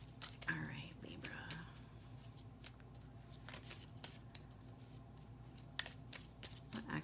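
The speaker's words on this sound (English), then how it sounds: "I feel like I need to put half this deck down and shuffle" Tarot cards are shuffled close up with quick papery riffles and taps. Soft whispered speech runs underneath throughout.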